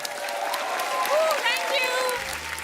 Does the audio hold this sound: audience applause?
yes